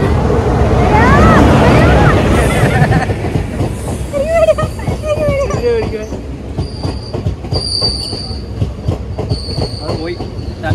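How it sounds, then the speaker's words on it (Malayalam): An Amrita Express passenger train pulls into a station with a loud, close rumble of wagons, then high metallic wheel squeals ring out repeatedly as it slows, with voices on the platform. "ഇതാണ് കേട്ടോ ഞങ്ങളുടെ ട്രെയിൻ അമൃത എക്സ്പ്രസ്സിലാണ് കേട്ടോ നമ്മൾ പോണത്"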